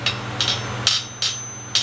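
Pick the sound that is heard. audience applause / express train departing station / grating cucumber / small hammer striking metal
small hammer striking metal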